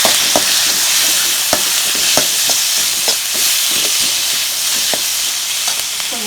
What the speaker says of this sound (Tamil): வெங்காயம் தக்காளி வணங்கிடுச்சா?